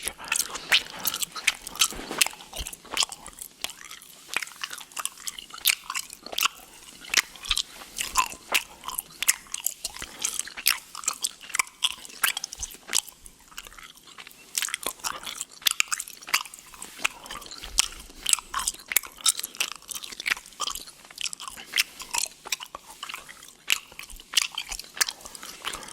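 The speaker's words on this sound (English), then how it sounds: "So gum is going in my mouth right now. I just need a couple of seconds to chew because the gum is it's very big." A big piece of gum is chewed close to a binaural microphone in an ASMR setting, producing steady wet, sticky smacks and squishes in a fast, continuous rhythm with no talking.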